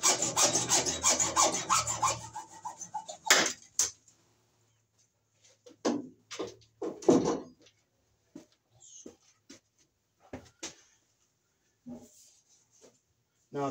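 A handsaw cuts through plastic conduit with quick, rhythmic rasping strokes for a few seconds, then gives way to scattered quieter knocks and handling noises with pauses between them.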